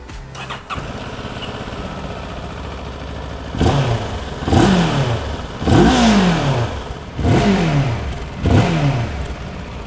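A CF Moto 700MT motorcycle with a 693 cc two-cylinder engine starts with a short crank, idles, then revs sharply five times in a regular rhythm, each rev climbing and falling back, close and loud.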